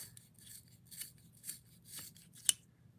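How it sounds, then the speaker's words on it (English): A cheap plastic dollar-store pencil sharpener grinding a colored pencil, with soft, intermittent raspy bursts of twisting, faint and close, ending in a sharper click. "I have my Teenage Mutant Ninja Turtles sharpener here that I got at the dollar store"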